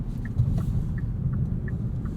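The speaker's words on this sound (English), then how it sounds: "There's definitely a little bit less wind noise and road noise in here" Low, steady rumble of tyre and wind noise inside a 2021 Kia K5 EX sedan on the road, a constant cabin drone with no talking.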